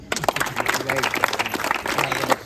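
Audience applause at a fireflies festival gathering in Bhandardara, a dense patter of clapping that carries steadily throughout with voices and crowd noise mixed in.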